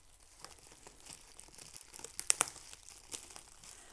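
Packing tape is peeled and torn off a cardboard package while unboxing, with quiet crinkly scratching that builds to a couple of sharp ripping bursts before tapering off.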